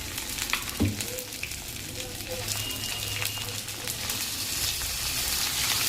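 Chicken pieces fry in a pan with onion and ginger-garlic paste, giving a continuous, fairly loud sizzle with occasional stirring scrapes and a sharp clink near the start.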